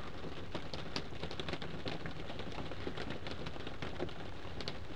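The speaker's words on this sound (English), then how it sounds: "Raining pretty good." Steady rain pours down, a dense, continuous patter with scattered sharper drips and taps standing out against the wash.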